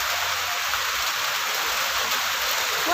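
Steady rain pours down outdoors as a dense, even hiss that continues unbroken throughout, loud and close, with no talking.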